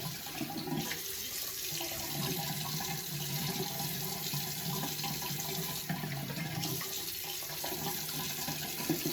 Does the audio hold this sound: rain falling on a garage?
no